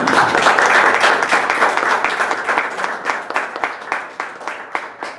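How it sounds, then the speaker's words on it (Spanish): Audience at an evening book presentation applauds strongly, a dense burst of clapping that thins into scattered individual claps toward the end. "Para quienes pido un fuerte aplauso por su presencia esta noche"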